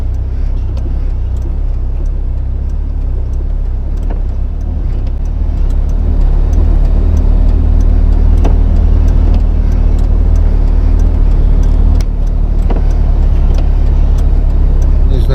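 Car with a torn-out ball joint creeping slowly along a road, a steady low engine and road rumble running throughout with occasional faint knocks and clunks from the suspension.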